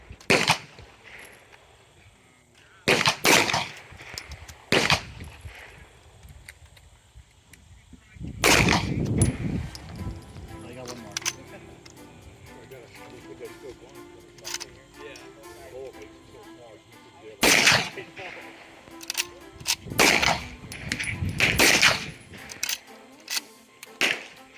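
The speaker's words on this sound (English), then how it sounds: "everything went well, and I really liked how the gun shot." Loud gunshots from a customized Rossi 92 .357 lever-action carbine crack out in spaced single reports and quick pairs, with voices talking between the shots.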